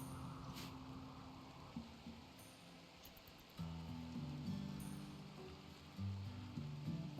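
Psychic rain falling in the video game RimWorld, a faint steady hiss of rainfall under low droning game music.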